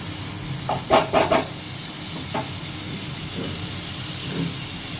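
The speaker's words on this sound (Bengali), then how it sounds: "যত সময় পেঁয়াজটা না গলবে তত সময় একটু কষাতে হবে জল দিয়ে দিয়ে" Onions cooking in a pan with a splash of water for a spicy Bengali bhola fish dish, giving a soft steady sizzle and hiss with a few brief scraping stir strokes near the start and a fainter one later.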